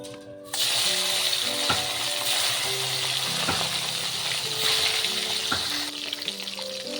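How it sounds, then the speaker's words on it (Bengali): Snakehead fish fries in hot mustard oil in a wok. After a short quiet start, a loud, continuous sizzle begins, broken by occasional sharp clinks. Soft background music plays under it. "তেল গরম হয়ে গেছে মাছ কটা ভেজে নেব"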